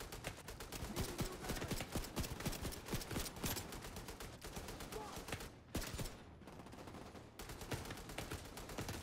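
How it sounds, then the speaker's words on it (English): Rapid gunfire crackles in The Division 2, dense bursts of shots rattling almost continuously, with two short gaps where the firing stops before resuming, loud and close. "Who is shooting at me and why can't I see them?"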